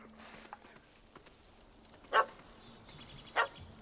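A dog barks twice in The Witcher 3 video game, two sharp separate yelps against a quiet background with faint ambient game sound.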